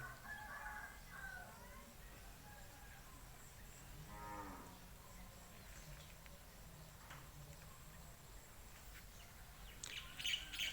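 Faint farmyard sounds outdoors: a rooster crows in the distance and other birds call, over a quiet, steady background without speech.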